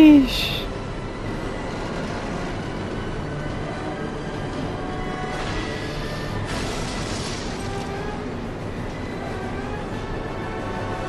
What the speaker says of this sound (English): Now we stop the train.